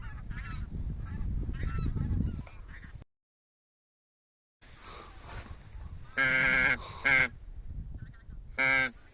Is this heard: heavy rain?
no